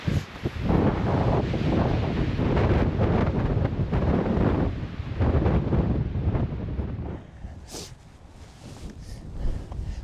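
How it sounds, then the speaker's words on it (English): Outdoors by a mountain lake in Rocky Mountain National Park, wind gusts buffet the microphone with loud roaring surges that ease to a quieter rush near the end. "the wind's picking up a little bit, but not too bad"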